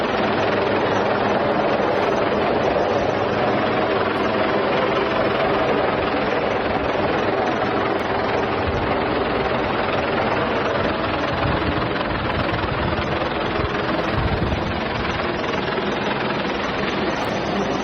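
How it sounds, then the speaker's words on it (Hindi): Helicopter arriving over the sea to rescue stranded fishermen, a steady, dense rotor and engine roar that holds level and loud throughout with no pause. "फिर उसके बाद वहां वो हेलीकॉप्टर पहुंचता है, चॉपर पहुंचता है और उन्हें रेस्क्यू किया जाता है"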